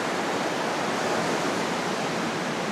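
Ocean waves wash steadily on a beach outdoors, a broad, continuous rushing hiss at even loudness with no talk over it.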